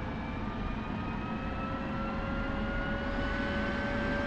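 An F-16 jet engine in the DCS flight simulator spins up with a steady, loud roaring whine, its tones rising slowly and continuously over several seconds, with no voices.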